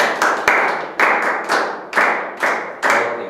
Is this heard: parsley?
no